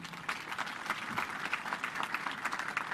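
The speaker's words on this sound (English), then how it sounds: "let's recognize him for another round of applause" A crowd at a Kenya Defence Forces Day celebration gives a round of applause, a fairly quiet but continuous patter of many hands clapping at a distance.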